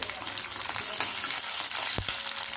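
Peanuts frying in hot oil with mustard seeds, garlic, curry leaves and green chilli pieces over medium-low gas, a continuous soft sizzle with small pops and a couple of sharp stirring knocks near the end.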